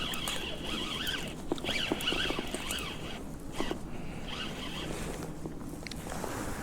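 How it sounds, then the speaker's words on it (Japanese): Rain pattering outdoors beside Lake Kanayama in Hokkaido, a dense, steady patter of drops with scattered sharper ticks, continuing at moderate level throughout without voices. "雨っす"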